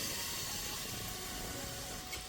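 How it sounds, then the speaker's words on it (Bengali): Palm fruit malpua batter sizzles steadily in hot oil as ladlefuls go in, a continuous close frying hiss with no voices. "এবার এক হাতা করে নিয়ে দিয়ে দেব তেলের পরে"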